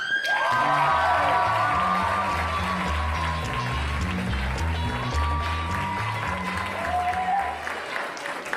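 An audience at a stand-up comedy show bursts into loud sustained applause and cheering with whoops, the clapping steady throughout while a voice talks over it.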